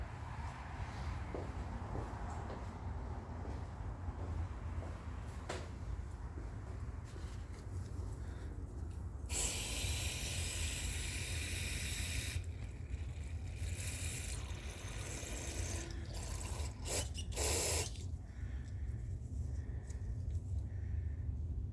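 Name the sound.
spraying carburetor cleaner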